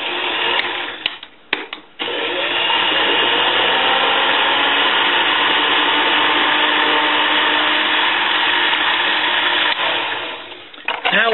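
A metal lathe turns a shoulder on hexagon stock, giving a loud, steady machining whine with a grinding edge. Brief breaks come near the start, and the cut fades out near the end.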